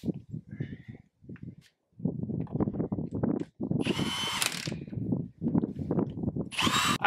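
Power tool driving axle shaft bolts on a Dodge Ram during a rear hub oil seal job, with repeated close, loud rattling bursts of an impact-style driver separated by short pauses.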